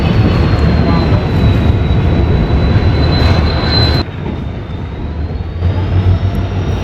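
A train rolls out of Shri Ganganagar station on a desert border route, its steady broadband rumble and rail noise loud and continuous, with a thin high whine riding above and a brief drop in intensity partway through.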